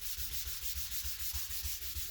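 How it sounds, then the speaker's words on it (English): Hand sanding wood with 500-grit sandpaper: close, steady back-and-forth strokes in a quick, even rhythm, roughly three strokes per second, with no talking. "I'm just busy sanding, really."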